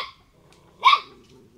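One dog gives a single short, loud bark near the middle, nearby, with a faint sound just before and quiet surroundings otherwise.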